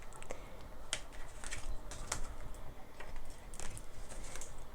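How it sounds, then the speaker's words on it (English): A large tarot card deck is shuffled by hand: faint, irregular soft clicks and papery flicks that come close together with no talk. "Shuffling the big deck is hard"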